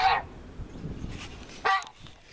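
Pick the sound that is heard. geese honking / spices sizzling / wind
geese honking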